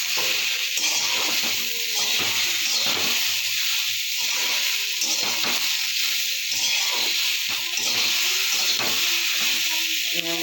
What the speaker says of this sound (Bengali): এইরকম কম তেলে সবজি দিয়ে রান্না হচ্ছে